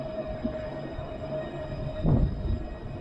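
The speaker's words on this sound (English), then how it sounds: "let the tram go past." Tram passing on a Dublin street brings a steady low rail rumble with a thin whine, swelling louder for a moment as it goes by, with no voices.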